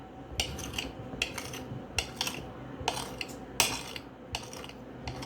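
A knife cuts through soft bacon on a kitchen board in a run of short scraping, clicking strokes that come in irregular bursts, close up, with no voices.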